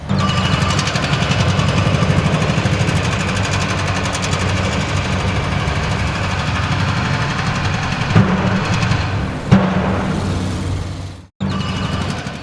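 Many demolition hammers pound away at an old roadway on a large demolition site, a dense, continuous, loud mechanical rattle and thrum with a few sharper knocks near the end.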